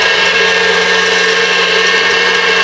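An electric mixer whisks egg whites for a pavlova toward soft peaks, a steady, loud, unbroken motor whir with a bright high-pitched hum that runs throughout, with no talking.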